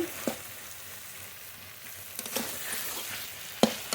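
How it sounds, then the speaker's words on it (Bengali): Brinjal pieces fry in oil in a pan with a soft, steady sizzle, and a few sharp scrapes and clinks of stirring stand out above it. "খুব ভালো করে ভেজে নেব বেগুনগুলো"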